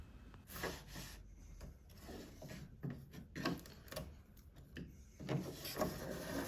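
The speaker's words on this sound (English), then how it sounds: "following that with a razor trimmer to cut off the excess edge band material" A razor trimmer scrapes along the edge of wooden bifold door edge banding, cutting off excess material in a run of close, rasping strokes with short pauses between them.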